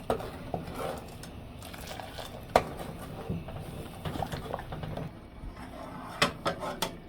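Warm milk sweetened with brown sugar for mishti doi is stirred to cool it, producing soft, close rubbing and scraping with a few light clinks of utensil against pot, faint and unbroken.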